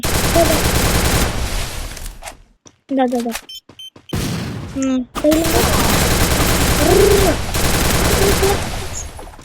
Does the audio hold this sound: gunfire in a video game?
yes